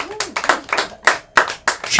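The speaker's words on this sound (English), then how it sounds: "Can we get a round of applause for Jada?" A comedy club audience claps in a round of applause, sharp individual hand claps in uneven bursts, close and fairly loud, with speech mixed in between the claps.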